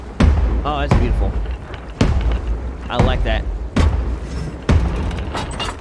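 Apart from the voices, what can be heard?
fireworks exploding in the video game Sea of Thieves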